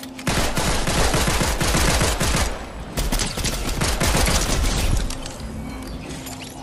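Rapid automatic gunfire in the Fortnite video game, long dense bursts of fast shots close and loud, with a brief gap before firing resumes and trails off.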